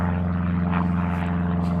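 A propeller aircraft drones steadily with a deep, continuous engine hum and buzz, loud and unbroken for the whole moment.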